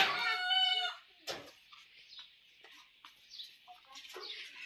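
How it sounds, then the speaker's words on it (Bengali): A Brahma hen on a village farm lets out a loud drawn call followed by a series of short, scattered clucks at close range, with no talking. "এটা হচ্ছে ব্রাহ্মার মুরগি"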